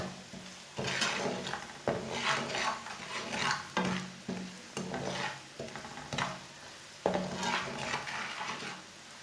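Ground coriander and masala roasting in a pan for Punjabi-style egg macaroni, with repeated spatula scrapes and stirring strokes over a light sizzle, close and fairly quiet.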